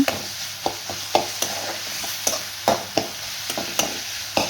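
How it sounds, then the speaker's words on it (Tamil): Onions, tomatoes and garlic sautéing in oil with mustard seeds in a pan, a low sizzle broken by about a dozen sharp scraping stirs at an irregular rhythm, close and fairly loud, with no talking. "வெங்காயத்துக்கெல்லாம் நல்லா வந்து அந்த எண்ணெயிலே ஃப்ரை ஆகட்டும்"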